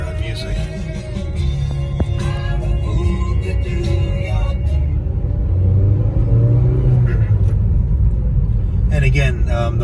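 Steady low engine rumble and road noise inside a 2006 Mazda Miata LE with its muffler removed, droning continuously throughout while music plays and a person talks over it.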